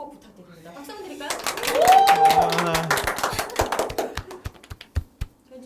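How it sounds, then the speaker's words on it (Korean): Bursts of clapping from a small group, sharp irregular claps building then thinning out, with talking and a cheer mixed in. "박수 한번 드릴까요?"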